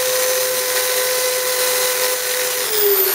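A steady, high-pitched whine of a power drill spinning a plasma cutter tip, running continuously at close range, with a slight shift in pitch near the end.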